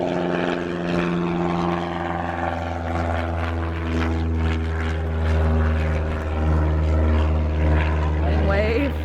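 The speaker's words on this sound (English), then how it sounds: "Got Cessna taking off on this short runway." A Cessna's propeller engine drones loud and steady with a strong low hum as the small plane takes off from a short runway at an airfield, swelling slightly toward the end.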